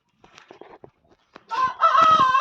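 A brooding hen clucking over eggs as chicks hatch, a few soft, scattered low clucks followed by a louder, sustained cackling call close by, with no talk.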